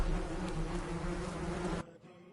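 A dense swarm of bees buzzes loudly and continuously, then cuts off abruptly, leaving a faint hum.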